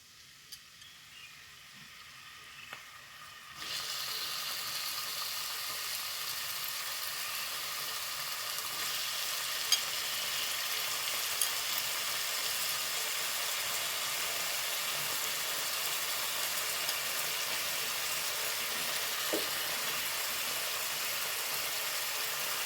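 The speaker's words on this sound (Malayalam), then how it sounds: "നമുക്ക് ഊറ്റിയിട്ട് ഇതൊന്ന് വറുത്തെടുക്കണം കേട്ടോ ഉരുളക്കിഴങ്ങ്" After a few quiet seconds, potatoes drop into hot oil and a loud, steady sizzling hiss fills the rest, with occasional faint pops.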